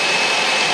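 Steady aerosol hiss of AC cleaner being sprayed down into a car's HVAC assembly to treat mold and mildew, a continuous broadband spray held close and loud without any pause.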